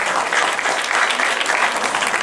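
A crowd at an event in Pondicherry applauds loudly and steadily, with dense clapping filling the whole stretch without a break.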